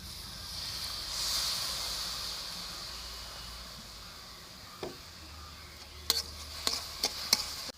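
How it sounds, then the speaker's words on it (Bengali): Grated coconut filling is stirred in a pan over low heat, with a faint, soft hiss followed by a few light scrapes and taps of the spoon near the end. "বন্ধুরা আমি পুরটাকে ভালো করে নেড়ে নিচ্ছি"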